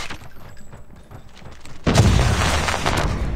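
A thermite grenade going off in Call of Duty Mobile: after quieter gunfire and game sounds, a sudden loud burst erupts and becomes a dense, sustained roar of crackling fire and blasts.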